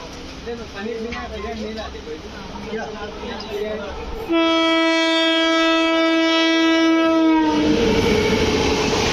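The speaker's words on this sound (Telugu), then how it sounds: "ఇప్పుడు ఇంకో ట్రైన్ అయితే ఓవర్టేక్ చేయబోతుంది" A Karnataka Sampark Kranti express hauled by a WAP7 locomotive overtakes on the adjacent track, its loud sustained horn blaring for several seconds over rumbling wheels, with a voice talking beforehand.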